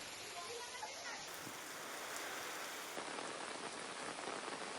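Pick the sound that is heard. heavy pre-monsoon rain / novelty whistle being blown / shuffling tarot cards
heavy pre-monsoon rain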